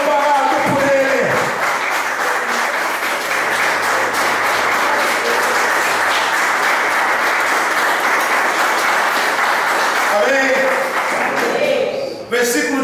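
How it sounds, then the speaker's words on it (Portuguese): A church congregation claps steadily for God during a sermon, sustained dense applause for about ten seconds before a voice speaks again as the clapping dies away. "Quem são amparados por Deus, aplaude Ele."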